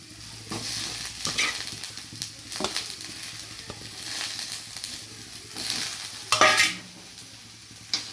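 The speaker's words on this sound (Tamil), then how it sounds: "லைட்டாக கிண்டி விட்டுக்கலாம்." Tomatoes for paneer butter masala are stirred as they fry in a pan over low heat, giving a steady sizzle broken by a few scraping strokes of the spoon, close and unaccompanied by talk.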